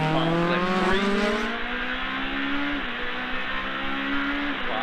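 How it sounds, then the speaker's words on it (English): A Honda rally car screams high in the rev range through its sequential gearbox on a forest rally stage in the Australian Rally Championship, loud and close, with rising engine pitch broken by quick gear shifts. "Awesome through the sequential gearbox. That Honda singing high in the RPM range."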